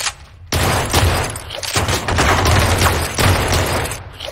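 Rapid gunfire in Blue Estate, sustained bursts of shots after a brief lull, loud and close, layered with action-game noise and no clear talk.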